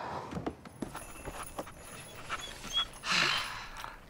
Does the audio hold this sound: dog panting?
yes